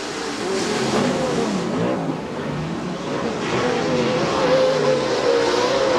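Off-road race trucks roar past in a short-course race at Chula Vista, engines revving and snarling in overlapping waves, loud and close, with no talking.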